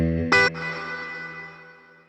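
Electric guitar through a reverb pedal set with about 60 milliseconds of pre-delay: a sharp bright strum rings out, then a long washy tail slowly fades away, alone with no talk.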